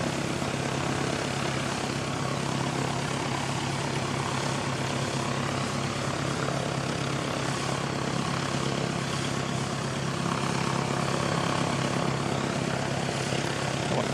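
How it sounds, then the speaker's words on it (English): An aircraft arriving on runway 29 at Christchurch airport in New Zealand makes a steady, broad engine roar, heard from a distance at an even level throughout, with no voices. "We just had an arrival on runway 29"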